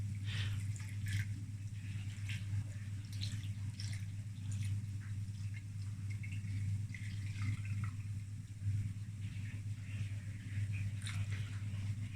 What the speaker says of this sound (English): So we're going to pour the fat in through the two sieves.